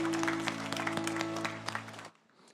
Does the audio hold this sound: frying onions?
no